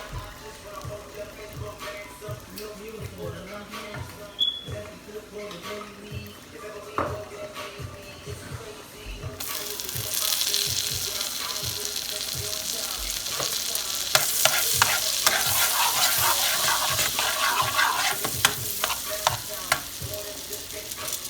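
Garlic sizzling in melted real butter in a pan for grilled jerk chicken and shrimp, a steady close frying hiss that swells louder partway through, with light stirring taps and clinks throughout.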